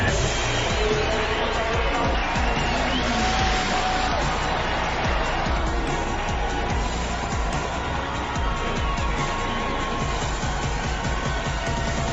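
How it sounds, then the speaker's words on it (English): A crowd at the 2018 Mercedes AMG Motorsport eRacing competition claps and cheers in a dense, loud, continuous wash, with whoops and voices mixed through it. "Eleanor, dein Applaus"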